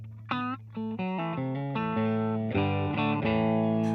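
Electric guitar tone from a 1972 Gibson Les Paul with its out-of-phase pickup switch engaged, played as a sustained sequence of distorted chords and notes with chorus-like shimmer, loud and continuous with no talking.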